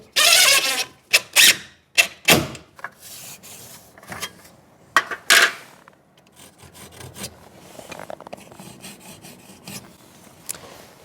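A sponge rubs sealer onto the cut end of a Hardie fibre cement plank in quick, scratchy strokes, loud at first and then quieter, steady rubbing.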